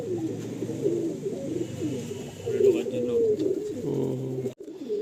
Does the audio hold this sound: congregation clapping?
no